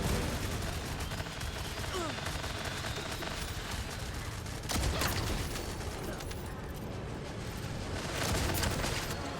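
Assault rifle gunfire in a video game fight against a boss, a dense, fairly faint rattle of rapid shots and blasts running continuously under the game's other noise, with a couple of sharper bursts.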